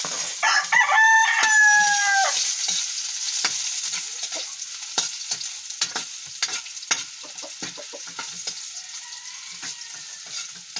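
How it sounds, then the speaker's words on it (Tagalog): Ginger sautés in a pan with a steady frying hiss and repeated utensil scrapes and taps, while a rooster crows in the background for the first couple of seconds. "Gisa ng luya."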